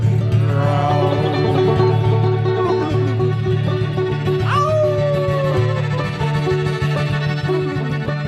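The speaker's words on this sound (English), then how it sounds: "Can you hear those dogs all over the south side and north side tonight?" Several dogs howl and yip outdoors at night across the south and north side, a continuous layered chorus of long wavering howls with scattered barks, some near and some distant.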